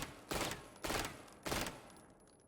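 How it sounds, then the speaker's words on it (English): Three short SMG bursts in the video game Valorant, each a sharp rapid volley of shots spaced about half a second apart, loud and crisp with quick decay and no talk. "what we can do for medium longer ranges is we can shoot little bursts"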